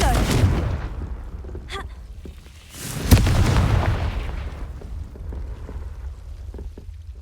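A Harry Potter video game plays the Confringo spell's fiery blast as a booming explosion, with one sharp burst standing out amid rumbling impacts and lingering crackle across the scene.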